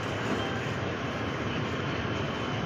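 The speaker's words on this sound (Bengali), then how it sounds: "তো দেখাচ্ছি ট্রেন বেরিয়ে যাচ্ছে" A train pulls out of New Jalpaiguri station in Siliguri, heard from a nearby flyover as a loud, steady rumble and roar with no talk over it.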